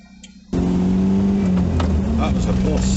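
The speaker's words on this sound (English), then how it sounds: "That was a bus." A bus passing close by on a cobbled street in Scotland, a sudden loud engine roar and rumble that bursts in and stays heavy to the end.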